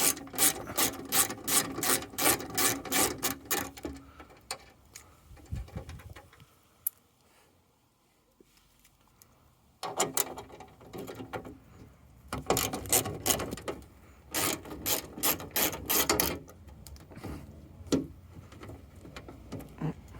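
A ratchet wrench clicks rapidly while undoing 8mm captive nuts on a 1994 Jaguar XJS V12 facelift, close bursts of dense ticking separated by pauses and quieter fumbling.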